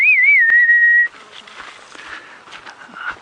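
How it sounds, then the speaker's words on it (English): A single clear, loud whistle with a warbling pitch rings out for about a second on a sunrise safari drive, followed by faint bush ambience and soft distant sounds. "Did you hear that whistle, everybody?"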